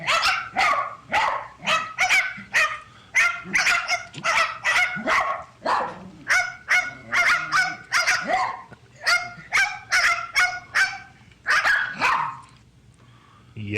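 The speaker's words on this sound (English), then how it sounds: "They posted a video of their 3 small dogs barking in the driveway" Three small dogs barking together outdoors in a driveway, a dense run of sharp, high-pitched yaps repeating in quick bursts, loud and close with no talk, easing off near the end.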